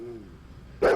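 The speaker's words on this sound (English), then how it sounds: "it's a dog." A dog lets out a single loud bark near the end, following a stretch of quiet background sound.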